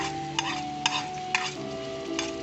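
Dried red chillies fry in oil in a clay pot, a steady close sizzle with a few sharp stirring scrapes spaced through it.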